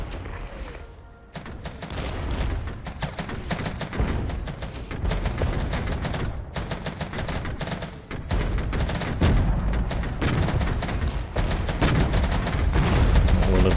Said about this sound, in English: All of these auto cannons firing away.